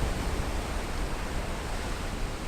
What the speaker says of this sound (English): The waves also are pretty strong.